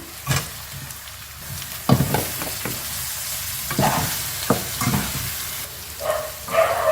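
Chicken noodles being stirred and fried in a pan, with sizzling under repeated bursts of utensil scraping and tossing, close and fairly loud with no talk.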